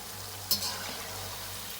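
French fries frying in hot oil, a steady soft sizzle with one brief scrape of stirring, faint and close with no talk.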